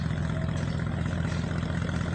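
A boat engine on a river, drawing near the bank, gives a steady low, throbbing drone that holds at an even level for the whole moment, with no voices.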